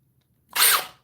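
A Milwaukee 2904 cordless hammer drill with a 6 amp-hour battery, set to speed 2 in drill mode, spins up in a single loud, close burst about half a second long after brief silence.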